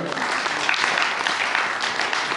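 A church congregation applauds, with dense, steady clapping and some voices mixed in, continuing loud and unbroken throughout.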